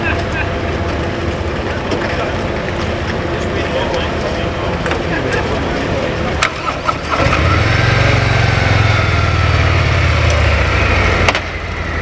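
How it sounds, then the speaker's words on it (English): A motorbike engine starts up partway through and settles into a steady low rumble with a broadband roar, close by, with talking heard before and around it at a ferry terminal in Brodick. "this motorbike just started up and I can hear the engine"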